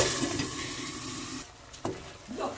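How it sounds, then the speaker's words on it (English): Water pours into a pan of toasted semolina in a loud rushing stream that stops abruptly, followed by faint splashes and sizzling. "now I'm adding the water."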